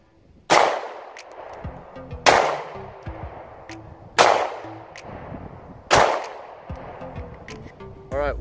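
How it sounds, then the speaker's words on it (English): Four loud, sharp Glock 17 pistol shots ring out one at a time, roughly every two seconds, each trailing a short echo, fired outdoors at close range with a red dot sight mounted. "I want to fire a few more shots through this Glock 17"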